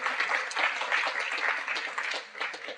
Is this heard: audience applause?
yes